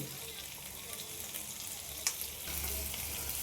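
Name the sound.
chicken frying in a pan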